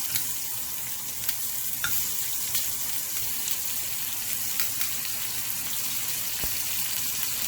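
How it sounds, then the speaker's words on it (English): A quarter of an onion sautéing in oil in a pot while cooking a pot roast, giving a steady, close, continuous sizzle with a few faint clicks and scrapes, no voices. "I'm going to toss in my quarter of an onion to saute it."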